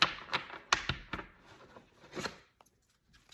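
Cards being mixed by hand, several decks, a series of sharp riffling bursts and clacks close to the microphone, quieter near the end.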